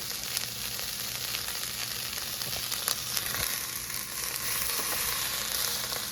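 Beef for smash burgers sizzling in a preheated pan in a home kitchen, a soft steady frying hiss with faint crackles and no talk.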